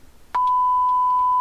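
A sharp click followed by a steady, pure test tone that holds continuously and loud from a car door speaker nearby, triggered by a diagnostic scan tool.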